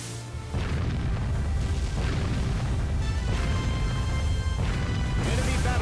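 Explosions ring out as an enemy battleship sinks in Warship Gunner 2, a loud rolling rumble with several heavy booms about a second apart over a dense, continuous roar.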